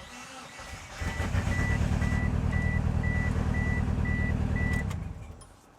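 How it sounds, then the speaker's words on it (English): A car engine cranks over on the ignition, wired through a homemade harness. A dense, steady mechanical churn runs for about four seconds, with a repeated electronic chime beeping over it before the sound stops. "it's just a matter of going back to the ignition and giving it a turnover"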